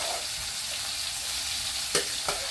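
A parboiled ingredient drops into a hot pan for a sauté and sizzles steadily, with a soft continuous hiss and two short sharp bursts of spatter or stirring near the end.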